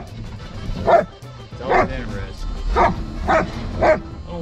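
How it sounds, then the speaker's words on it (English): A dog barks inside a truck, five sharp barks at a steady pace up close, with someone talking between and under them. "I don't know why she likes to bark when she's in the truck."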